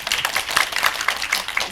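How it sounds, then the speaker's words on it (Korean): Scattered audience clapping at a film screening talk, a run of distinct claps close together, fairly loud and alone without speech. "큰 박수 부탁드리겠습니다."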